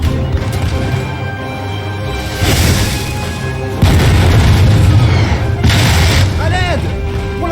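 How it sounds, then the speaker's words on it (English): Cannon fire in Napoleon: Total War during the Siege of Toulon, loud booming volleys with rumbling blasts that repeat across the stretch over a dense battle din. "right-click your mouse to order your cannons to attack"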